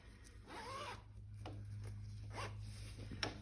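Zipper on a freshly sewn cushion cover pulled open and closed several times, short close raspy zips in quick succession over a low steady hum.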